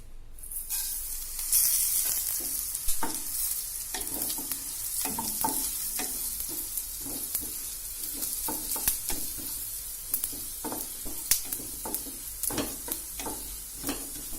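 Oil heats and sizzles in a hot kadai, with a steady hiss broken by repeated stirring clicks and scrapes, close up with no talking.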